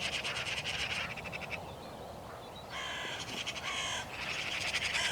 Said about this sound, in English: there was a real dolly mixture of hooded crows, magpies, and even a few rooks floating about